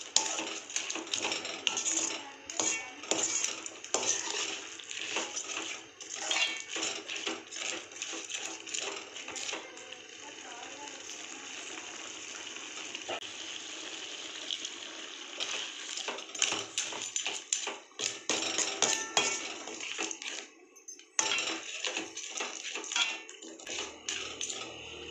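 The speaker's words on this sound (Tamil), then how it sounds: "தேங்காய் ஊற்றிட்டு நல்லா கிளறி விட்டுக்கலாம்." Crab curry with poured coconut is stirred in a pot, giving a steady run of close clinks, scrapes and clatters of spoon against metal that continues almost without pause, with a short break near the end.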